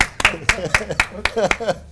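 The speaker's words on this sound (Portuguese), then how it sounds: "Palmas para ele, que ele merece." A few people clap in a steady, regular rhythm for a radio host and producer, roughly four claps per second, close and fairly loud, with no talking over it.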